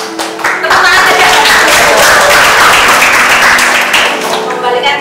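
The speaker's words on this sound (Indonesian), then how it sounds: "Tepuk tangan aja." A worship congregation claps along, a loud, close burst of many hands clapping with a rhythmic, tapping quality, swelling in quickly and holding before easing toward the end, with sustained musical tones ringing underneath.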